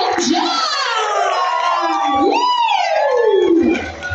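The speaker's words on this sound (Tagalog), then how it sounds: "maaari po bumang makarinig muna mula sa inyong lahat ng isang malakas na palakpak para may kasamang sigaw" Wedding reception guests cheer and shout loudly together, a dense, sustained crowd roar with rising and falling voices that runs for several seconds before cutting off.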